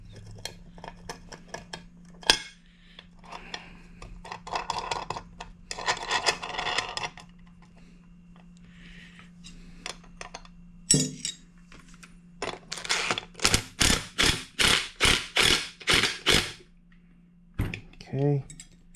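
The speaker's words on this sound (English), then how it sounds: "So let's start with removing this one with the proper tool." A SIP tool works a bearing out of a Vespa smallframe engine during a rebuild, giving a run of scraping, rasping metal strokes and then a rapid series of sharp clicks, close and moderately loud.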